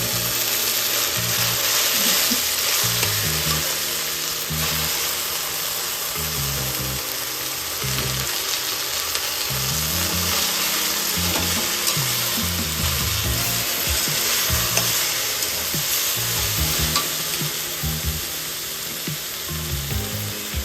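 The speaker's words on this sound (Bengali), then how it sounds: "এর মধ্যে শাকটা দিয়ে দেবে।" Kochu shak greens frying in hot mustard oil with garlic, a steady close sizzle running throughout, with occasional stirring and scraping knocks in the pan.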